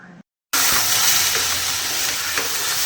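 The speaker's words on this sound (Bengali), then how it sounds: "এখানে ভেন্ডি আর আলু ভাজা চলছে" Okra and potatoes fry in a pan with a steady, loud broadband sizzle. It starts abruptly after a brief quiet gap and then holds constant with no talking.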